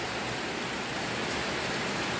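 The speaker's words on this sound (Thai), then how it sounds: "ฝนก็ตกพี่น้องเอ้ย" Steady, even rain falling, a continuous dense hiss filling the clip with no pauses and no voices.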